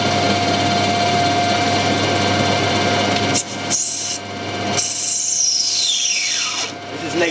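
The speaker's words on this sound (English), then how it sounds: "run the lathe in back here for a little bit just to get the oil round" A metal lathe runs steadily while screw cutting bronze, giving a continuous mechanical hum with a steady tone. Brief shifts come near the middle, and a sweeping whine follows later.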